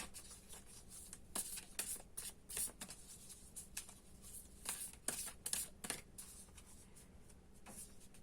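Tarot cards are shuffled close up in quick, crisp bursts of riffling and sliding, repeated in an uneven rhythm with short pauses between.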